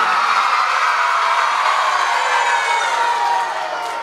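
An audience at an annual school function claps and cheers to welcome a guest being honoured with a bouquet, a dense, loud wash of applause that fades slightly at the end.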